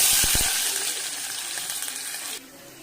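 Onions hit a pan of hot oil already holding mustard seeds, chana dal and fennel, sizzling loudly up close after a few quick clinks, then the frying noise drops to a softer sizzle.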